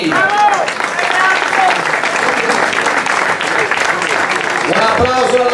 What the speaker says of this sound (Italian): Un applauso al nostro vincitore di classe